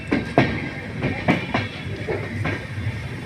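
A train pulling out of Dum Dum station without stopping, wheels clacking over rail joints in a steady rhythm of loud knocks over a continuous rumble.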